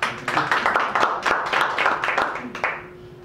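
An evening audience at an introspection talk claps together, a dense burst of many hands near and loud for about three seconds before tapering off.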